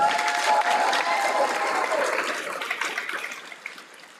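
A ceremony audience applauds graduating business and industry students at a TCAT Murfreesboro signing day, a full, steady wash of clapping that slowly thins toward the end.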